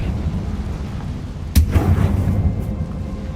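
A single heavy blast from the Confringo spell in the video game Hogwarts Legacy bursts out suddenly mid-clip, then a rumbling tail decays over the next second above a steady low background.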